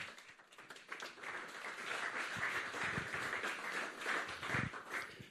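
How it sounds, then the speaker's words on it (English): Audience applause greeting Alan Gow as he comes on stage at a BMW UK motorsport event for the 2017 BTCC Team BMW 125i M Sport, a steady dense clapping from a large crowd sustained throughout at moderate distance. "A round of applause, please, for Alan Gow."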